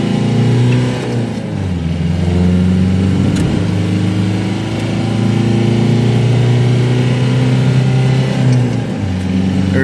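A Dodge Dakota fitted with a swapped ALH TDI diesel engine and an NSG370 transmission accelerates at half throttle, heard from inside the cab: a loud, steady engine drone that rises in pitch, drops at a gear change, then climbs again.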